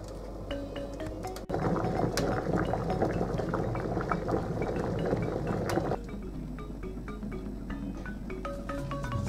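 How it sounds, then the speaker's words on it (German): Corn kernel porridge boils in a covered pot, a steady bubbling simmer with a constant dense texture throughout and a few faint clinks. "jetzt einfach Deckel drauf und das Ganze ganz in Ruhe langsam kochen lassen"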